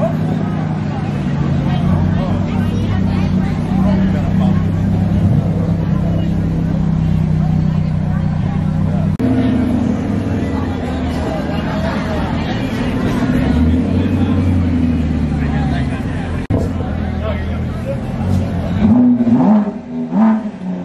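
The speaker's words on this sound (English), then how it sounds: "It's got a real engine. The Shelby GT 500." Engines rumble and rev continuously at an outdoor exotic car show, with a Shelby GT500 among the cars, as steady crowd chatter and nearby talk run over the engine noise throughout.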